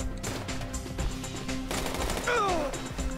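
Rapid bursts of gunfire in GTA V crackle continuously for a few seconds, with a brief descending whine near the end.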